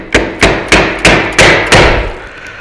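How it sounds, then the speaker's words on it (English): Six evenly spaced, loud metallic hammer blows ring out up close as a brass ring is driven into a Shopsmith caster, each strike decaying briefly before the next. "I'm going to see if that just fits in there and see if I could just hammer that in."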